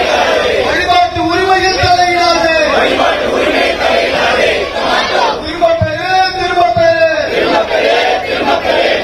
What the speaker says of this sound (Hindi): जो अपार यहां पर जो भीड़ है वो बिल का विरोध भी करती हुई यहां पर नजर आई